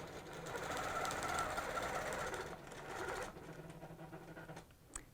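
A sewing machine stitches a straight microquilting line, a steady fast mechanical whir running continuously for about three seconds, then easing and stopping near the end. No talking.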